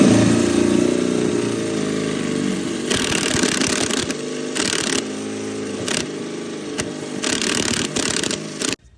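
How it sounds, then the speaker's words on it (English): A power drill bores a hole through a house wall to run wiring for a Tesla Level 2 home charger, its steady mechanical whine running loud and close with brief surges and pauses before cutting off at the end. "I'm just gonna drill a hole through there and run my wire"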